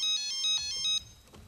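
A telephone rings in a rapid, warbling electronic pattern, loud and close for about a second before cutting off, with no talking.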